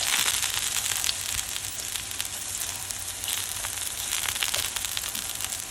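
Eggplant pieces fry in a modest amount of oil in a pan, giving a steady, close sizzle with dense crackling pops and no talking.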